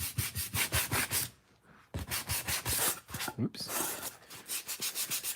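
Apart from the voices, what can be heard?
sanding wood with sandpaper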